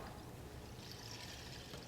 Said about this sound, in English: this is a rain stick. You cut a certain type of tree, and inside again there's a spiny thing inside, and some seeds, and they make this sound